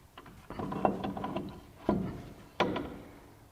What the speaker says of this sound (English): We'll go ahead and put our rotor back on now.